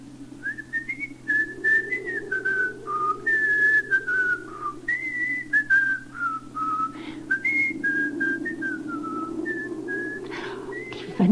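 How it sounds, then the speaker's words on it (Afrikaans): A boy whistles his favourite tune, a clear, continuous melodic line of sliding notes with short breaths between phrases, heard alone over a low steady hum. "hy fluit dit"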